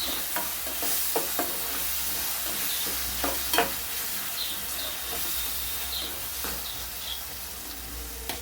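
A spatula scrapes and stirs through tomatoes and onions frying in a pan for a ladies finger curry, with a steady sizzle underneath and intermittent clinks and scrapes, no talking.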